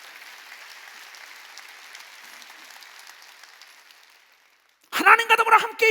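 A church congregation at a year-end worship service breaks into loud, close, sustained applause after a stretch of quieter voice and murmur.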